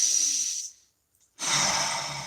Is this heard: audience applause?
no